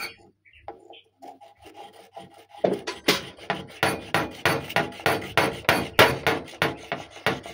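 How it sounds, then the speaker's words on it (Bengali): Sandalwood ground into paste on a stone, heard first as faint scattered rubbing, then as loud, close, rhythmic rasping strokes repeated at a steady pace. "প্রথমে আমি বেটে নেব চন্দন"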